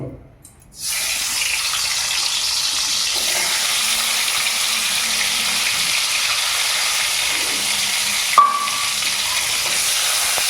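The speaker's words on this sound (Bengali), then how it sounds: "ওকে সুন্দর করে লাল করে আগে ভেজে নেব" Eggs coated in salt and turmeric fry in oil in a kadai, a steady bright sizzle that starts abruptly and runs evenly for several seconds, with one small clink near the end and no talking.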